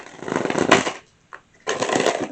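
Tarot cards shuffled by hand in two quick bursts of riffling, separated by a short pause, close and dry.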